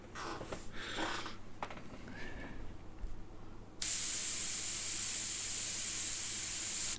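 Spray gun applying lacquer in a workshop: after a few seconds of faint rustling and handling noise, a sudden loud, steady hiss of spraying starts and continues close up.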